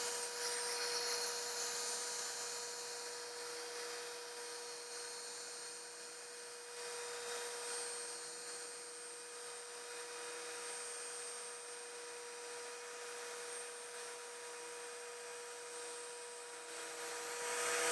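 A rotary polisher works over car paint on a final polishing pass, giving a steady, continuous machine whine that holds an even level throughout with no speech.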